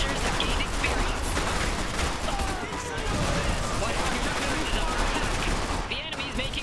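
Sustained battlefield gunfire from Iron Harvest, with dense overlapping rifle and machine-gun bursts rattling continuously under a speaking voice and faint game chatter.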